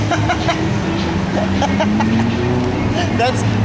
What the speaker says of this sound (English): you get used to motorcycles here in the Elm City.